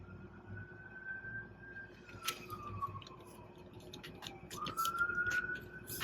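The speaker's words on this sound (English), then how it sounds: "And of course, there's an ambulance passing by." A siren wails with a sweeping, falling and rising tone as an emergency vehicle passes by, moderately loud over steady street noise.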